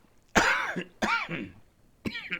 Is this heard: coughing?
yes